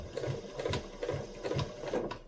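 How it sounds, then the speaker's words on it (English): Sewing machine stitching quilt binding a quarter inch from the edge, a steady close mechanical whirr with rhythmic needle clatter pulsing several times a second, running alone without talk. "I'm going to go back to my sewing machine and keep stitching 1/4 inch away"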